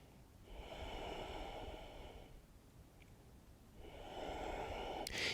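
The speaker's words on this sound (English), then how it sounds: "2 more breaths." Slow, deep breaths during a power yoga class, one long airy inhale and exhale followed by another, close and soft, with no talking.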